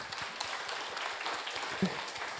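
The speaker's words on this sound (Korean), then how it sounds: "우리 감사의 박수 한번 해드리십시다" Church congregation applauding in thanks during a Sunday morning service, a steady wash of scattered clapping that stays fairly soft and even throughout, with no voices over it.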